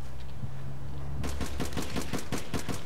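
Gunfire in the APB Reloaded video game: a steady low hum, then a sudden run of rapid evenly spaced shots, loud and close, continuing to the end.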